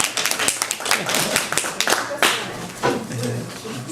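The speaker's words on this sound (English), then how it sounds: "We clap for everybody." Meeting attendees at a school district finance meeting clap together in a steady burst of applause lasting a few seconds, with voices talking over and around the clapping.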